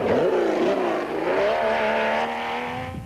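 A 3.5-litre Porsche engine in a rally racecar competing in the 1997 Trans Tongaland revs loudly and close, its pitch climbing and shifting as the car accelerates through gears, with no voices.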